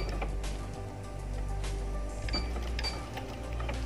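A sewing machine stitches a fancy sleeve with a steady mechanical whirr and clatter, loud and close, and no voice.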